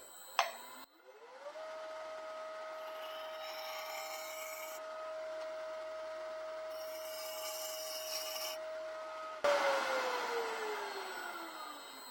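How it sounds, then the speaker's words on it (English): A hand tool scrapes a wooden coffee mug against a steady machine whine that rises and later falls off, giving a soft continuous rubbing rasp with a brief louder scrape near the end. "I'm just trying to scrape it to see what it does."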